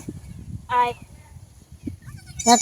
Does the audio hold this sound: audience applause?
no